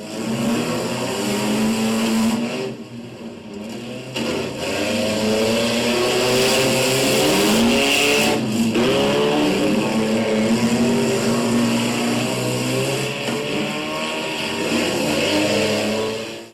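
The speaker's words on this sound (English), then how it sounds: "The junk car races, for example, seem to get more popular each year." Junk cars racing around a county fair track, engines roaring loud and continuous with revving swells and a brief dip as cars pass, with no voices.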